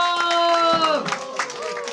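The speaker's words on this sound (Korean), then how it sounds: "다시 한 번 더 박수와 함성." Party guests celebrating a child clap and cheer, short bursts of clapping and crowd noise sitting under sustained music and a speaking voice.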